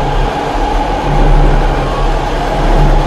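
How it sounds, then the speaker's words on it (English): A train ride in the Dead Space video game: a steady, loud rail rumble with a constant low drone runs throughout, with no pauses and no talking. "Seems like a fun train ride,"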